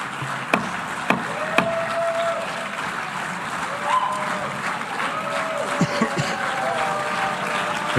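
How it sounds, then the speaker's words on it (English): Applause fills the UN General Assembly hall as people walk out: a steady wash of clapping with a few sharper, louder claps standing out, and faint voices underneath. "They were clapping for all the people leaving the speech"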